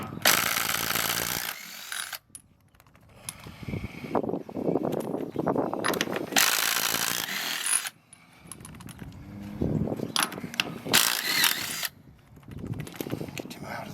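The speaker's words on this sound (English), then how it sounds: "So, let's pull the lug nuts off." Lug nuts being removed from a trailer wheel with a power tool: several loud bursts of rattling, hammering impact separated by pauses, with clanking and handling noises between them.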